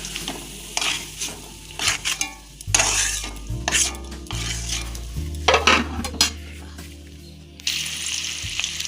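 Carrots frying in a kadai while being stirred, with sizzling and repeated scraping, clanking strokes of a utensil against the pan, loud and close, for a Bengali home picnic meal.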